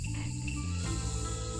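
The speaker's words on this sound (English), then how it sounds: "Damn, cicadas won't shut up." Cicadas in the visual novel Tails & Teacups keep up a continuous shrill buzzing drone under soft background game music, steady and moderately loud throughout.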